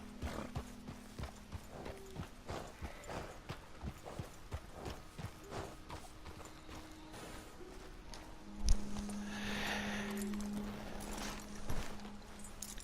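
Horse hooves clip-clopping steadily in Red Dead Redemption 2 as a rider reaches Wapiti, an even walking rhythm that carries on throughout, with a brief louder snort or whinny partway through.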